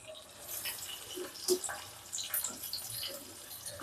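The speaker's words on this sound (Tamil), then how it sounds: "அவ்வளோதான், எல்லா தண்ணியும் போட்டாச்சு." Water is poured into a pan while cooking manathakkali keerai soup with garlic, a steady splashing and trickling with small bubbling bursts, fairly faint and continuous.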